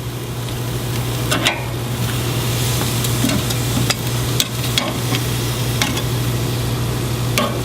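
Korean BBQ beef ribs sizzling on a hot grill as they are flipped, a loud continuous sizzle with scattered sharp clicks and scrapes of tongs, close and with no talk.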